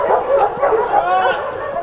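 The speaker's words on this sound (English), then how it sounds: "There's dogs over here, there's dogs over here, there's dogs over here." Several dogs at a rural animal sanctuary in Elliott County, Kentucky, bark, yip and whimper in a loud, overlapping chorus that stays close and continuous for the whole moment.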